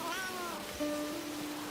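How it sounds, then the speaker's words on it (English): Cat meowing in the video game Where Winds Meet, two drawn-out meows in quick succession, the second lower and steadier, fairly clear over a quiet game ambience. "I also hear another cat."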